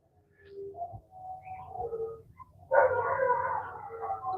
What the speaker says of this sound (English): All the dogs are going nuts now because of the fire truck